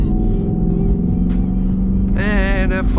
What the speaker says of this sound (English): Gear pull, going to third, see what happens.